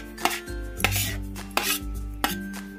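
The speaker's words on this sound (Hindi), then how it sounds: "सारी सब्जियों को इसमें मैं मिक्स कर लूँगी।" Chopped tomato, red and green chillies, curry leaves and ginger mixed together in a bowl, four sharp clinks of a utensil against the bowl at a regular pace, each followed by a short scraping rub.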